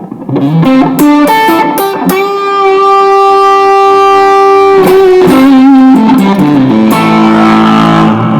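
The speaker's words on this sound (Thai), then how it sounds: "ก็จะเป็นเสียงแตกเสียงใหญ่กับรีเวิร์บเท่านั้นเองนะครับ" A heavily distorted electric guitar, shaped by a Rocktron Chameleon 2000 preset with reverb for a 90s rock tone, plays a loud melodic line of held, singing notes and quick note changes, continuous and up front.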